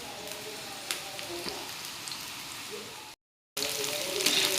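Potato pieces fry in hot oil for a spicy potato snack, a steady close hiss and crackle with faint popping, briefly cut to silence before the sizzling resumes.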